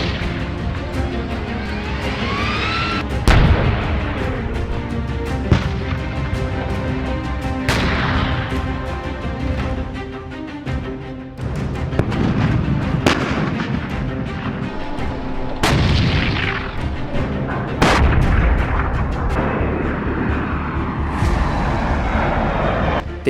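Tank cannons and machine guns firing in a battle: repeated heavy booming blasts at irregular intervals over a continuous roar of gunfire and rumbling vehicles, loud and close with no talk.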